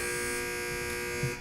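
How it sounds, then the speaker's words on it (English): A quiz show buzzer in a championship final, heard as one continuous loud electronic buzz that holds steady for about a second and a half. "Teams wait for the buzzer."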